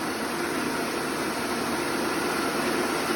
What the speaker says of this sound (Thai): เดี๋ยวเรามาเทสสีข้าวกันนะคะ